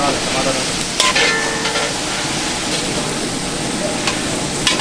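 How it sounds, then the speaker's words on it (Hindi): Chicken karahi is stirred with a very large spoon in a big restaurant kitchen, spices frying in a loud, continuous sizzle, with occasional scraping clinks of the spoon against the pan. "ये सारे मसाले डाल दिए हमने चिकन कढ़ाई के अंदर। अब इसको चलाएंगे।"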